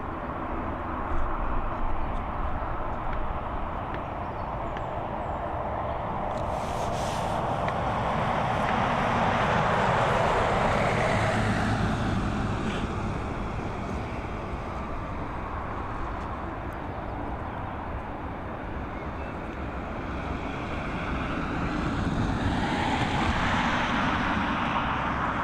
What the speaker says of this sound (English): our next arrival coming in from Barcelona. It's another 737 MAX FR6394, operated by my mates Ryanair.